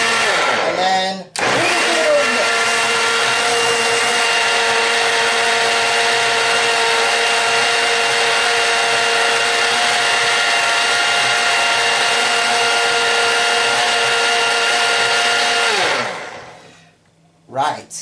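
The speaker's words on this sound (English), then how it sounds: "So now I can switch off my blender because this is ready." A blender making a fruit smoothie roars steadily at high speed for about fifteen seconds, loud and close, then winds down and stops.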